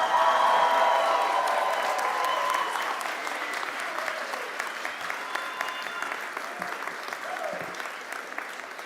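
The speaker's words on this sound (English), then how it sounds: "Families, let's give the class of 2025 a big round of applause." A large commencement audience breaks into loud applause and cheering, a dense wash of clapping that stays strong at first, then thins gradually toward scattered claps.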